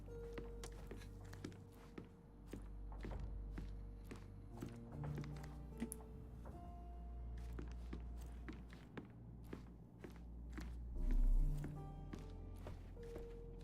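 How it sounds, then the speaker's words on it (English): Muffled footsteps thud on the floor upstairs in a video game house, a series of irregular soft taps and knocks over a low ambient hum. "I heard footsteps upstairs a second ago."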